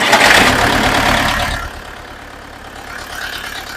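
Kentavr 404 tractor engine, just restarted after fuel priming, runs loud at first, then settles into a steady low idle rumble, close by, with no talk.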